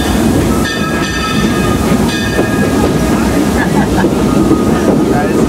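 Frisco Silver Dollar Line tourist train running through the Ozarks, a steady loud rumble of wheels and carriages with metallic squeals and brief tonal whines, unbroken across the whole stretch.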